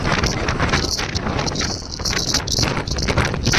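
Strong wind in Mendarda buffets the microphone in loud, roaring gusts, rumbling continuously with no voices heard.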